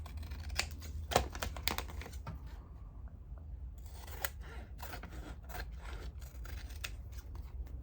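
Scissors snipping through candy wrapper paper for a craft project, a string of quiet close crisp cuts in bursts with a short pause, over soft room noise.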